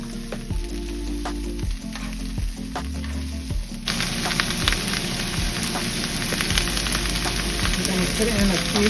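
Onions and peppers hitting a pan over medium-high heat, the sizzle jumping to a loud, dense, steady hiss partway through, with clanks of stirring and music underneath.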